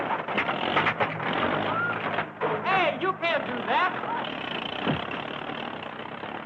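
An old 1930s tractor starts up and drives off, its engine rumble and mechanical creaks running through the clip under shouted talk.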